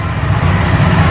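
A 2023 Ducati Panigale V4S motorcycle engine idling right after its first startup, a loud steady low rumble close by, with no talk.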